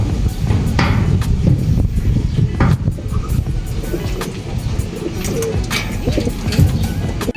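Racing pigeons coo repeatedly at their loft during race training. The soft, rolling calls are close and overlap, with occasional knocks and light background noise.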